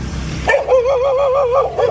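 A dog yelps and barks in quick, high-pitched bursts, close by, with a wavering whine running through the calls.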